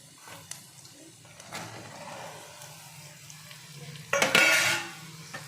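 Ridge gourd pieces frying with onion and green chili in a pan, a soft steady sizzle with a few stirring clinks, ending in a louder scraping burst of spatula against the pan.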